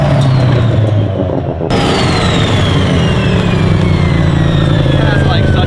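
Mazda FC RX7 with a built 13B rotary engine revving hard and close, a loud rasping drone whose pitch climbs steadily after a brief dip, heard alongside voices.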